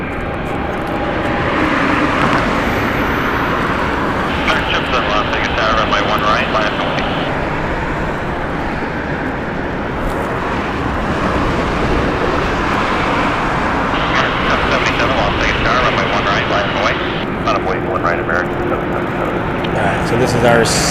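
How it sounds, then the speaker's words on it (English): A Spirit Airlines jet departs Las Vegas for Dallas, its sustained loud engine roar rising and steady throughout, with radio voices and talk running over it at several points. "So this is our Spirit Flight 2920 heading over to Dallas"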